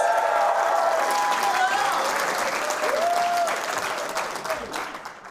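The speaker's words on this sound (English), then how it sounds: "I didn't get it out before you started applauding." Steady applause from a live comedy audience at Largo on La Cienega in Los Angeles, a full crowd clapping continuously with voices talking over it before it tapers slightly.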